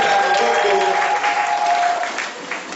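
Church congregation applauds to acclaim the word of God, a brief burst of clapping that swells and then fades over a few seconds, with a faint sustained tone beneath.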